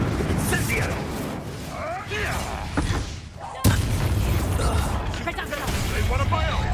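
Incendio fire spell cast in Hogwarts Legacy, loud booming fiery bursts layered over dense combat effects and voices, with a sharp impact midway through the clip.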